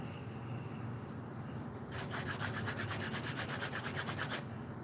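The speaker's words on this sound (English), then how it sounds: "We're gonna scrape the old paint off of the heads of these." Old paint being scraped off chainsaw parts after an overnight soak in carburetor cleaner: a quiet lead-in, then a run of rapid, rhythmic rasping strokes close by, with no talking.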